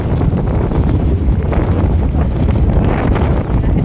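Strong wind like a dust storm buffets the microphone, a loud, constant roaring rush with gusty surges and no pauses, heard alone with no voices.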